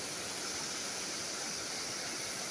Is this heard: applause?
no